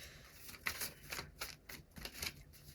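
Tarot cards are shuffled by hand in a quiet room, a run of soft, riffling flutters in quick irregular bursts, close and faint.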